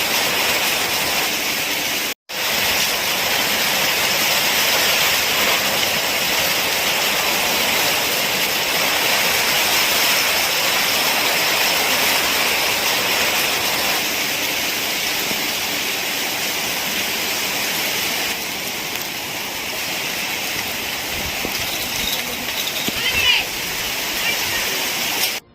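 Heavy downpour at Srisailam, a dense, loud, continuous roar of rain with no breaks apart from one brief cut early on.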